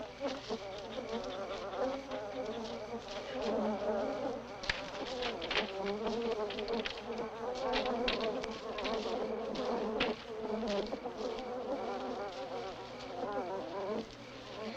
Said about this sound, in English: Goddamn bees are going crazy.